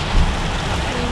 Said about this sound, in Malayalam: ഭയങ്കര മഴയാ.